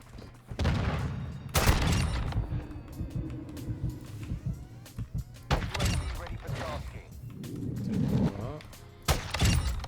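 SA-B 50 sniper rifle shots in the video game Modern Warfare II, several sharp loud cracks spaced a few seconds apart amid thuds and game noise, with people talking over them.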